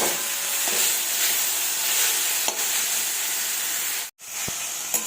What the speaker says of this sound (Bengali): এভাবে নেড়ে নেড়ে একটু ভাজতে হবে যাতে জলটা মরে যায় শুকিয়ে যায়